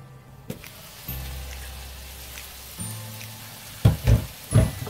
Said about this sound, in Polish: a nadal smażymy